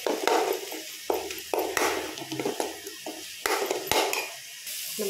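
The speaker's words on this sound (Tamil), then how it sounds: "ஒரு ஸ்பூன் இஞ்சி பூண்டு பேஸ்ட் போட்டுக்கலாம். இப்போ இதை நம்ம நல்லா வதக்கிக்கலாங்க" Ginger garlic paste sautés in a pan with a loud close sizzle, broken by scraping stirs and a few light metallic pings of the spatula against the pan.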